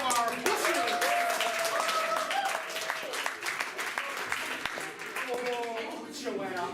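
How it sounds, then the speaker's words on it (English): An audience at an improv comedy show applauds, a continuous wash of clapping at moderate level with voices talking and calling out over it. "Let's get a round of applause for our listeners."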